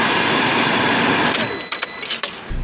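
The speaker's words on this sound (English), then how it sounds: "So now we're gonna shut off the vehicle." A car engine running with a steady roar is switched off partway through, after a cooling-system coolant flush. The engine noise drops away, leaving a few light clicks and a faint electronic chime.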